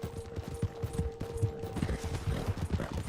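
A horse's hooves clip-clop in a video game race, a steady rhythmic patter of hoofbeats under a constant low hum and background game sound.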